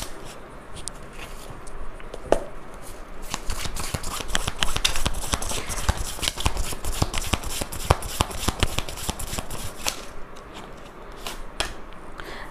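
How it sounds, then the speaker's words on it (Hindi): Tarot cards being shuffled by hand, a continuous close crisp riffling and flicking of card stock with fast irregular taps, sustained for several seconds without speech. "चलिए टैरो कार्ड्स के थ्रू भी देख लेते हैं।"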